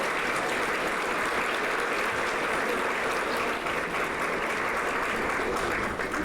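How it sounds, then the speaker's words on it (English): Sustained audience applause fills a student awards ceremony for a college of public health, steady and dense clapping from a crowd lasting throughout without a break. "You can applaud now."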